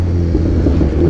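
A lowered motorcycle rides over a potholed, bumpy neighborhood street, its engine a loud, steady low rumble held close throughout.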